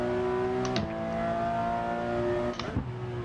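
A Porsche in the racing simulator Assetto Corsa holds a steady high-revving engine drone, with two quick gearshift dips where the pitch drops and climbs again, loud and close with no talk.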